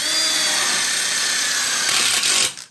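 A power drill drives a screw through a ConnecTube into an outdoor kitchen corner module frame, whirring steadily and loudly for about two and a half seconds before it stops abruptly.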